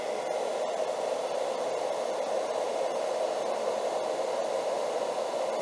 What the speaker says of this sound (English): So we have a standard hairdryer.